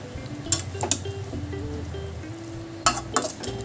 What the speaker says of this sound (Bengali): এবার ওলকপিটা মশলা আর আলুর সাথে ভালো করে বেশ কিছুক্ষণ ধরে কষিয়ে নেব।